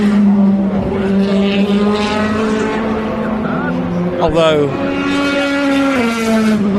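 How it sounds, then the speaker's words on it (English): Race cars approach along a circuit during an endurance-style event with Toyota entries, their engines droning steadily and rising in pitch, with one sweeping pass near the middle, heard under continuous commentary. "the cars you'll hear in stereo approaching from the right with their lights on"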